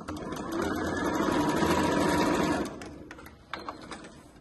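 A sewing machine stitches backward over tricoline cotton fabric, running steadily for about two seconds, then stopping, followed by faint clicks and handling noises.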